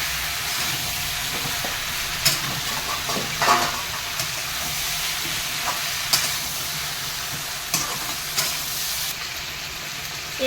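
Ridge gourd frying in a pan of spiced masala with cumin, chili, garlic and black pepper, for a fish curry with poppy seed paste: a steady close sizzle runs throughout, broken by scattered scraping stirs.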